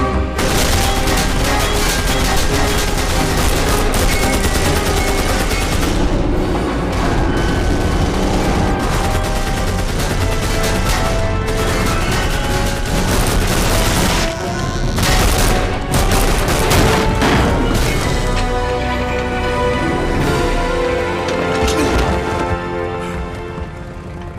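Sustained gunfire from the video game Wolfenstein (2009), loud rapid bursts and overlapping shots forming a near-continuous fusillade with occasional heavier booms, dense throughout and tapering slightly at the end.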